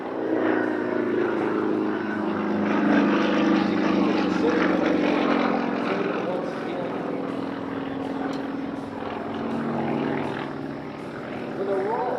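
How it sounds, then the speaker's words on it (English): Aerobatic airplane rolling over the McMinnville air show, a steady loud propeller-engine drone holding for the whole stretch with slight swells, heard from the ground. "Watch how it rolls the aircraft."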